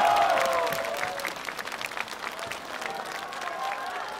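Sustained applause from a studio audience at a televised Chinese singing competition, following a performance by a group, steady and full with a few voices faintly underneath.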